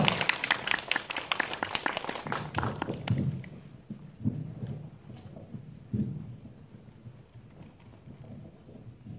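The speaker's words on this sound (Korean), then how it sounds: "다시 한번 환영 박수 부탁드립니다" Applause from a film festival audience greeting a short-film director and actors: dense clapping fills the first few seconds, then thins into scattered claps and fades.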